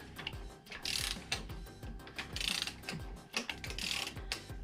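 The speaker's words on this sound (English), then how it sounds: "There's a bit of noise from the oil pump." Fiat Coupe 20V Turbo engine turning over with faint rhythmic mechanical whirring and ticking, oil pump noise among the pulsing clatter, heard close and alone.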